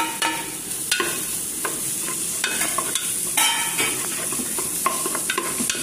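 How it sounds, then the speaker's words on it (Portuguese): Linguiça sausage frying in a pan for a simple home lunch: a constant close sizzle broken by repeated scraping and stirring clicks of a utensil against the pan. "Agora eu vou colocar a linguiça pra dar uma fritadinha primeiro"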